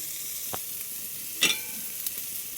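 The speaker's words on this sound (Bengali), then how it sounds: "আমি এখন নাড়াচাড়া করে নিচ্ছি" Fish frying in a hot pan gives a soft, steady sizzle, with a few brief scraping stirs of a spatula, one louder than the rest, heard up close with no talking.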